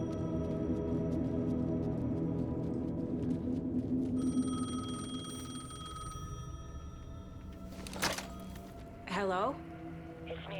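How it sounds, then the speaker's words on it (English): A payphone rings in the video game Alan Wake 2, repeating rings over a low, steady ambient drone, with a few brief electronic chirps toward the end. "The payphone was ringing."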